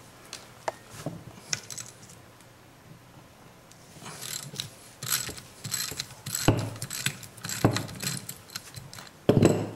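A ratchet wrench works loose a sprayed fastener, irregular bursts of clicking and metallic ratcheting that grow busier and louder toward the end.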